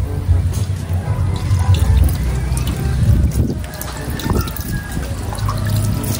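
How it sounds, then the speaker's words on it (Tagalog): Strong, steady rush of tap water from a rooftop faucet pouring over mustard greens as they are washed, a continuous broadband splash with small splattering variations throughout and no talking. "Napakalakas po ng tubig dito sa taas."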